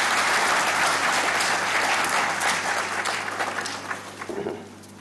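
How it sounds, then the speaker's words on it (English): Audience at a college event giving a round of applause: loud, full crowd clapping that holds steady, then fades and breaks into a few scattered claps near the end. "may I request you once again for a huge round of applause for all of us"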